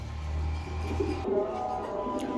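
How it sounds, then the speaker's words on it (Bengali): A pair of pigeons cooing up close, low throaty coos repeating over about two seconds with faint chirps at the end, with no one speaking. "খুব সুন্দর জটিল এক পেয়ার কবুতর, দেখার মতো এক পেয়ার কবুতর।"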